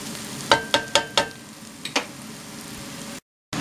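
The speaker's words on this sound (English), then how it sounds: "the ground rabbit is now in, and I'm going to stir that down amongst the vegetables" Ground rabbit meat fries with garlic and vegetables in a pan under a steady sizzle. A quick run of spatula scrapes and taps keeps time as it is stirred, then the sound stops briefly and the sizzle comes back.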